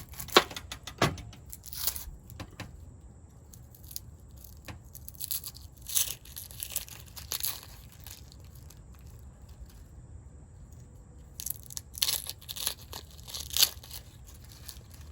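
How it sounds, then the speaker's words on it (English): Papery onion skin is peeled by hand in soft, crinkly tearing bursts, close and quiet, separated by pauses. "So first I will peel the onion."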